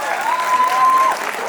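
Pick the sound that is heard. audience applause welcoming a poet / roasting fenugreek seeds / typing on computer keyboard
audience applause welcoming a poet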